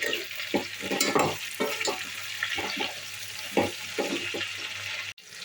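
Brinjals frying in a pan for a Rayalaseema-style festival dish, stirred with a spatula in repeated scraping strokes over steady sizzling, close and fairly loud, with a sharp knock near the end.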